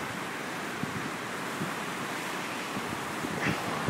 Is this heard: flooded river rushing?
yes